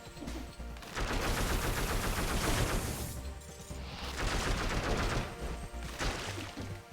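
AK rifle fire in the video game Dead Cells, dense bursts of shots in two long sustained stretches with a brief lull between, fairly loud and alone.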